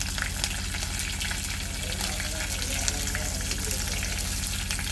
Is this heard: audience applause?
no